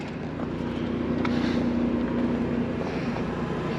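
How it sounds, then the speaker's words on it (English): A 4 kW Onan gasoline generator running on a 2020 Jayco Redhawk 22J Class C RV, a steady low engine hum with a faint tonal drone, fairly quiet and even, mixed with some wind noise. "Got the generator running right now."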